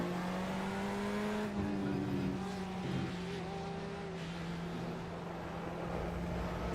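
A steady, droning race car engine in iRacing hums continuously with a sustained low tone, shifting pitch slightly as it runs, with no other sounds on top.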